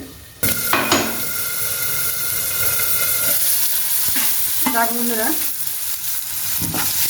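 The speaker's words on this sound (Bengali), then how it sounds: "এখন আলুটা একটু ভাজা ভাজা হয়ে গেলেই" Potatoes frying in a pan, a constant loud sizzle broken by the scrape and clatter of a utensil stirring against the metal, close up, with a few brief tonal squeaks and no speech.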